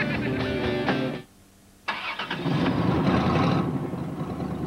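Car engine with a faulty muffler from a 1996 TV commercial: rough running, a brief drop to near silence, then the engine starts and settles into a loud, harsh idle, heard close with faint voices mixed in.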